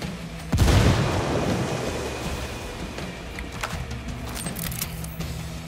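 Frag grenade detonating in the video game Ghost Recon Wildlands, one deep booming blast that rolls off into a long rumbling tail with faint debris rattles, moderately loud and nearby.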